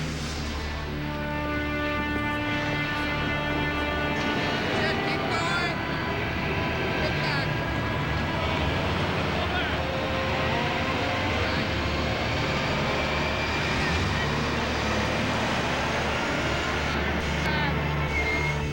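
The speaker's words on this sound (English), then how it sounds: "we're gonna taxi up the apron to the parking site" Airplane taxiing along an airport apron, a loud continuous engine whine and rumble with steady tones, heard throughout while people talk over it.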